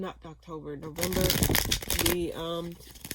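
Tarot cards shuffled in the hands during a weekly reading: a dense burst of riffling and flicking paper noise lasting about a second, close and fairly loud, with someone talking before and after it.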